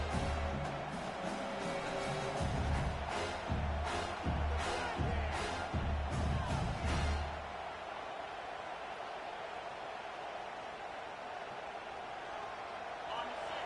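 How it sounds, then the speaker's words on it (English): Stadium crowd at a college football game, a loud continuous roar with rhythmic surges through the first half that then settles into a steadier, fainter wash of noise. "Listen to the crowd energy here in the early going."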